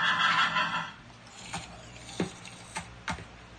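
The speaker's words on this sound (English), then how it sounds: "That's our horses in the bathroom." Horses in the Minecraft video game neigh in a brief whinny at the start, followed by a few soft, scattered clicks and taps.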